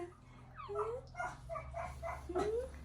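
A dog barks indoors in a quick run of close, high yips and whiny barks over a steady low hum.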